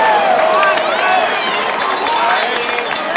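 A large crowd at a Virginia Tech football event cheers and applauds loudly, with whoops and shouting voices blending into a sustained roar.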